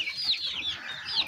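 Home-bred chickens cluck in a steady run of short, nasal calls, fairly close and moderately loud with no talk over them.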